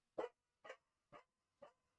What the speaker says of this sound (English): I apologise if you can hear Monty barking in the background